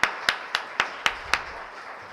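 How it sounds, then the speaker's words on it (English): At a graduation show, a few hands clap for the graduates: six crisp, evenly spaced claps in a quick steady rhythm, close and distinct, then quiet. "you all need a great round of applause from all of us"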